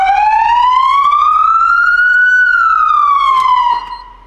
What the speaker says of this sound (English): All the way to the right, turns the sirens on, turns the lights on, lets everybody know to get out of your way.